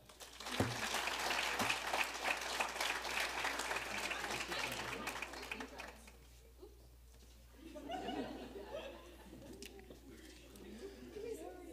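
An audience at a high school senior awards night claps loudly for several seconds. The applause then fades to scattered claps, murmuring and light laughter, and a nearby voice speaks.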